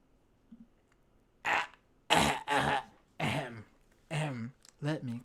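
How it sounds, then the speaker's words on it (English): Someone clears their throat in several short, harsh bursts during a podcast recording, close to the microphone, with brief pauses between efforts. "Let me clear my throat."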